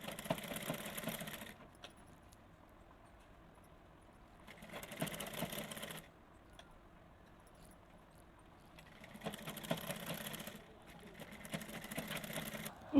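A sewing machine runs straight stitches through the lining of a blouse in three separate bursts of rapid whirring, each a few seconds long, with quiet pauses between them and no talking.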